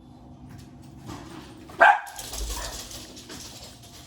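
A single sharp dog bark rings out once mid-clip, fairly close and loud, against a quiet indoor background with faint rustling.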